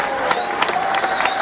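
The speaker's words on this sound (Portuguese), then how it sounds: "uma salva de palmas para o Nagrelha" Mourners at a funeral wake for Nagrelha clap and cheer in a brief, dense burst of crowd applause, with voices mixed into the noise.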